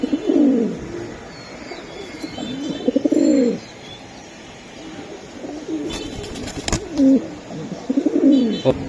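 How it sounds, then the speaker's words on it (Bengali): Several rounds of low, rolling pigeon coos rise and fade in separate bouts, close and fairly loud, with a sharp click between them. "বন্ধুরা এই যে দেখেন জোড়াটা কতটা কোয়ালিটিফুল কবুতর"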